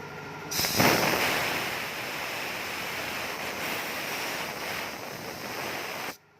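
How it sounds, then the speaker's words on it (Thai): Compressed air blasts through the oil hole of a crankshaft in a crankshaft repair shop, a loud, steady rushing hiss that starts abruptly and runs for about six seconds before cutting off sharply, with no talking. "เดี๋ยวเราลมเป่า นะครับ ลมเป่าเลย"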